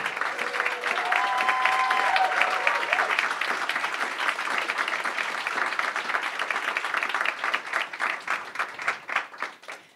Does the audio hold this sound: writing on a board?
no